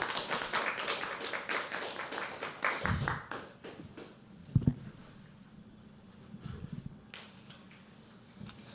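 An audience at a poetry open mic applauds at The Habitat, a burst of dense hand clapping that thins into scattered claps and taps, fairly close and moderate in level.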